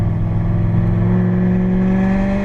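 A Corvette Z06 on the Las Vegas Motor Speedway track holds a loud, steady engine drone under throttle, a sustained close rev with a strong low hum and no breaks.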